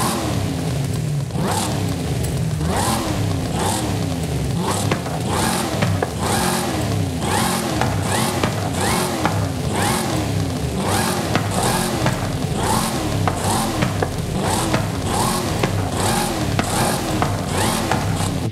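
A 1970 Dodge Charger with a 7.5-litre engine, in the Forza Horizon video game, revs hard in a long series of loud, rhythmic bursts with no voices over it.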